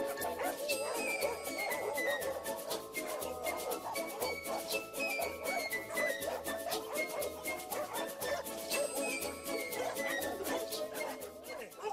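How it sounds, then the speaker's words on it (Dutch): A pack of about 48 dogs barks and yips continuously, a dense overlapping chorus of close, loud barking with whimpers and jingling throughout. "En dan laat ik de hondjes ook een beetje los."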